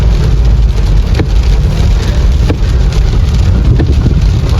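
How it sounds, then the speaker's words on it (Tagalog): Heavy rain pours steadily and loudly in Davao del Norte near a rising river, a dense unbroken hiss with occasional sharper drops and no talk. "Yan na, ang ulan, lagi ulan."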